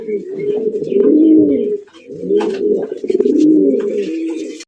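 Gola pigeons at a pigeon sale coo close by in two long, throaty rolling phrases, with faint background voices.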